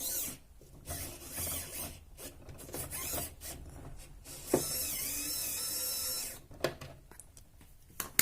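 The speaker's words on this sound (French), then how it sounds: "Donc là voilà, on visse au fond quoi." Screw being driven into the base of a Carddass card vending machine to join two stacked units, a quiet close rasping and grinding that runs steadily for several seconds with brief pauses and a couple of sharp clicks.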